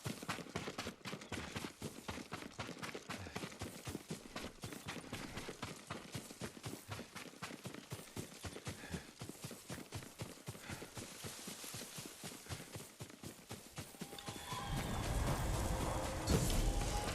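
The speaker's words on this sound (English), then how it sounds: "Yuriko's horse." A horse's hooves clip-clop steadily and fast across the ground in Ghost of Tsushima, a dense, even rhythm of close, clear hoofbeats that ends in a louder rushing sound.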